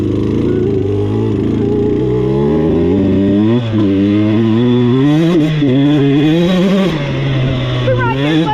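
A dirt bike engine revs up and down in rising and falling sweeps, loud and close, with a steady motor drone throughout.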